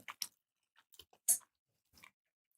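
Someone chewing food right at the microphone, a few scattered wet crunchy bites and mouth clicks with short silences between them, no talking.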